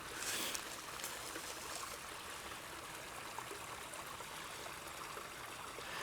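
Water flowing out over loose layered rock at a small rock-filled spring or pond in the Ozarks, a steady broadband rushing and trickling that stays even and fairly close throughout, with no voices.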